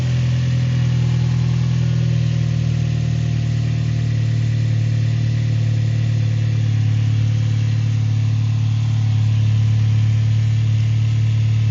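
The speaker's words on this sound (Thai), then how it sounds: "ฟังเสียงเครื่องนิดนึงฮะ" A 2013 Toyota Vios idles on pure E85 fuel after sitting unstarted for a week, a steady, close, even engine hum with a low droning tone and no talk.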